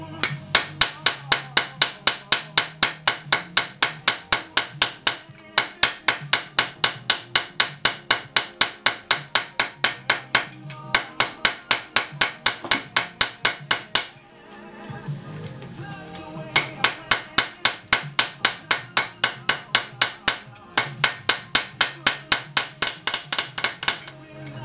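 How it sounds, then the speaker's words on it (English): Steady, rapid hammer strikes on a metal bell ringing out in long runs, with a brief pause partway through before the pounding resumes, loud and close. "Things get a little out of shape when you hammer it like that."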